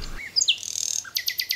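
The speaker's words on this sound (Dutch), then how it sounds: "Wij horen een nachtegaal, wij vinden dat prachtig." A nightingale sings alone, a short run of bright whistled notes, trills and rapid chirps ending in a quick repeated phrase, clear and fairly close.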